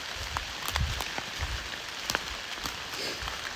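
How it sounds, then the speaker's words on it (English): Rain falls outdoors in autumn woods, a steady hiss of drops with scattered sharper patters and taps close by. "It's cooler out, raining."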